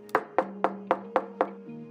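Six sharp knocks on a door in an animated fairy-tale cartoon, evenly spaced and loud, with a sustained musical tone beneath and a short chord at the end.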